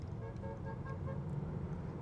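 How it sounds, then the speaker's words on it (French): A car horn honks at a Tesla Model 3 RWD 2024 driving on a road, a steady mid-range toot heard from close by over continuous engine and road noise. "La personne m'a klaxonné."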